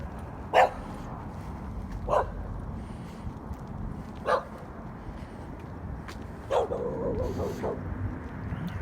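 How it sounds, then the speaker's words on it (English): A street dog barks several times in separate bursts, moderately near, over steady outdoor traffic and background noise, with no talking. "Ooh, that's a dog."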